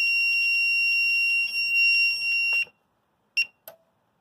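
A Silent Knight IFP-2000 fire alarm panel, during a drill, sounds a loud, steady high-pitched tone that cuts off abruptly, followed by two short electronic beeps.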